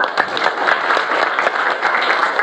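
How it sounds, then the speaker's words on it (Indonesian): Children applaud in a classroom, a steady burst of close, dense clapping lasting a couple of seconds without any talking. "tepuk tangan dong"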